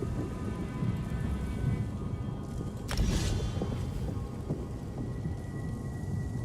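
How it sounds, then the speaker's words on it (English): A lightning storm spell in Elder Scrolls Online gives a steady rain-like hiss with a sharp crackling strike near the middle, a long rumble trailing off, no voices. "Because, like, lightning sounds amazing."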